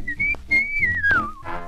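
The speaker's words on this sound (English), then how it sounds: "that whistle means Billy Boy is here" A clear whistle melody glides in long held notes within a 1940s song, then slides downward, set against a backing band.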